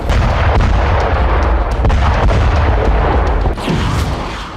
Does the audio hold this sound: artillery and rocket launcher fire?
yes